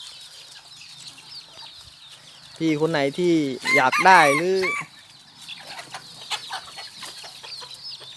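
Bantam chickens being bred at a Thai farm cluck and crow loudly up close in a burst of several calls, with someone speaking briefly in the background.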